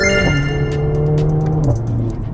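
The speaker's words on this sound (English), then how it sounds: "I'm driving on these twisty corners and this car just wants to push, it wants to go, go, go." A Mercedes-AMG A45S hot hatch with 422 PS is driven hard through twisty corners, its engine droning loud and close with rising revs and a gear change near the end.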